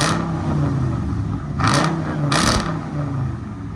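A 2018 RAM 5.7L HEMI V8 with an X-pipe exhaust, idling with a deep steady rumble close by, then two short rev blips around the middle that swell and fall back to idle.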